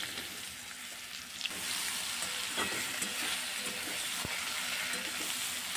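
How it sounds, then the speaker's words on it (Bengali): Cut ridge gourd pieces dropped into hot oil left from frying rohu fish in a kadai, a quiet moment giving way to a sudden loud, continuous sizzle with faint crackles and stirring clicks. "এখন এই মাছ ভাজা তেলের মধ্যে দিয়ে দেব কেটে রাখা ঝিঙেগুলো।"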